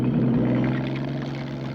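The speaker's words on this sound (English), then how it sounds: "Ray Rouse's friend, Vic Lawyer, driving a weasel" A Weasel tracked over-snow vehicle drives with a steady, low droning engine hum and faint track rumble, close and continuous throughout with no voices.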